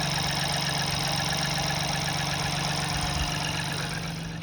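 Ford 1.0 EcoBoost engine with high mileage, idling after its oil pump was cleaned, a steady close drone with a faint rhythmic clicky ticking running evenly throughout, with no talking.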